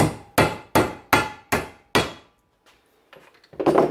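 Five sharp hammer taps seat a needle bearing cap into a U-joint during a driveshaft U-joint replacement, evenly spaced and loud, followed by quieter metallic clinks and handling.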